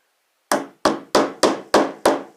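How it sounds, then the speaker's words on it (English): A small hammer gives six sharp, evenly spaced taps, driving a staple flush into shed wall panelling. Each strike is close, crisp and quickly decaying, with no talking. "So I'll just use this little itty bitty baby hammer"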